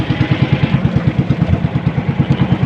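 A carbureted engine runs fast and loud, close by, its exhaust beating in a quick, even thumping rhythm with a rattly edge throughout.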